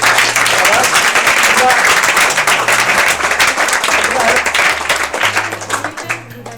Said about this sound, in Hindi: इसके लिए तालियां बजाओ एक बार फिर।